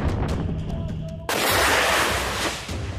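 A wire-guided US anti-tank missile launches with a sudden loud, broadband blast that cuts through faint earlier sounds and then roars steadily before tapering off, heard without speech.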